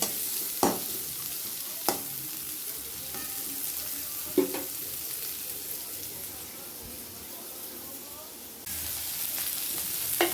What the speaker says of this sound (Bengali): ভাজা হচ্ছে